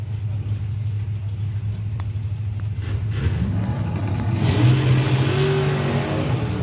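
A drag racing car launching down the strip at a European FIA/FIM finals meet, a deep rumbling engine swelling louder into a rising, revving roar after a few seconds.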